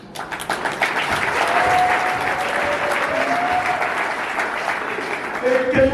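A crowd applauds the honoured national deputy Félix Bosekota Mbana at a ceremony held by his brothers of WINI, a sustained and loud wash of clapping lasting several seconds, with faint voices and a few whistles mixed in.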